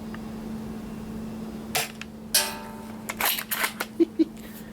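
An Ares Mauser Kar98k airsoft rifle fires at a target: a few sharp, close cracks and clicks of the action, spaced out across a quiet room with a steady low hum behind them.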